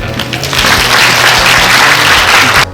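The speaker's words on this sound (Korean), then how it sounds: "네 분에게 큰 박수 보내시기 바랍니다." Loud, dense audience applause at a dementia conference in Korea, a steady wash of many hands clapping for the speakers that cuts off abruptly near the end.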